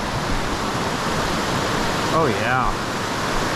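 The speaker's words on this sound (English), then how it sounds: "Crossing Rock Creek along the Middle Fork Trail" Steady broadband rush of Rock Creek flowing at a trail crossing on the Middle Fork Trail, a constant loud wash with a brief voice speaking over it near the middle.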